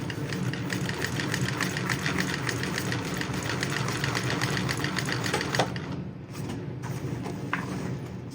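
A model 1341 sewing machine stitches a bag, running steadily and continuously at close range with a fast, even rattle, pausing briefly near the end before resuming.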